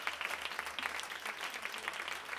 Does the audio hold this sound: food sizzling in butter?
no